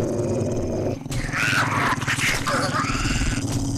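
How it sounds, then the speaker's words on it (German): Dogs growl and snarl loudly in the survival video game 7 Days to Die, a dense, continuous rumble with rising snarls over game noise and a voice. "Aber wir müssen die Hunde auch wegkriegen."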